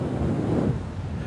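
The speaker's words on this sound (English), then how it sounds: "the sound of the waves" Ocean waves washing onto a seashell beach, a steady broadband rush close by with wind buffeting the microphone, continuous and fairly loud with no talking.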